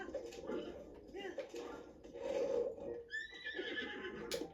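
A horse neighs and whinnies in The Legend of Zelda: Breath of the Wild, with a sharp, rising whinny near the end, over soft talking and faint hoof clops.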